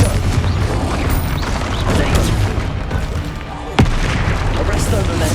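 A Confringo spell blast in the Hogwarts Legacy video game, a dense roaring burst of fiery explosive noise over busy battle sound, with a sharp crack near the end.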